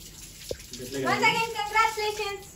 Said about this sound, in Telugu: హ్యాండ్ వాష్ చేసుకుంటాను.